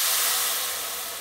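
Spices and homemade turmeric sizzle in hot oil for a phodni tempering: a steady, loud, close broadband hiss that eases slightly toward the end.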